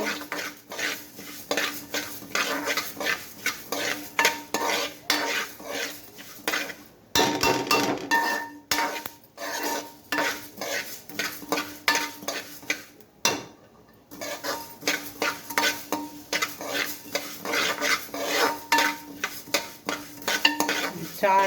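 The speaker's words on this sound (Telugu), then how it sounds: "ధనియాలు జీలకర్రలో వేయించి" Coriander seeds and cumin roast in a pan while a spoon stirs them in steady repeated scraping and clinking strokes, faint sizzle underneath, close and fairly quiet with no talk.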